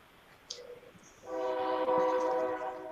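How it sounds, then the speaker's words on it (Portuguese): A train horn sounds loudly and close by, holding a steady harmonic blast that swells in after a brief quiet stretch, with rail rumble beneath and no talk. "Desculpa o trem aqui."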